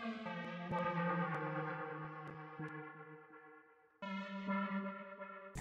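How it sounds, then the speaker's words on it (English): A synth lead from the Aperture Kit, drenched in reverb, plays a catchy sliding melodic pattern of sustained notes that slowly fade, then breaks off briefly before a new phrase begins. "Then I felt like this really needed a lead, so I added this. It's a synth from the Aperture Kit again."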